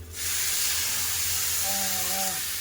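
Water poured into a hot pan of fried rice gives a sudden loud hiss of steam that holds steady, with a faint tonal whine in the last second.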